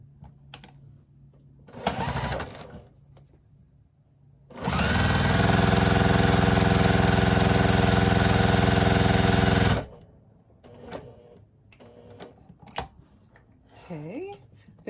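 A sewing machine stitches a quarter-inch seam through quilting fabric cut from pre-cuts, running in one loud, steady mechanical burst of about five seconds. Brief handling noises and a short murmur sit on either side of it.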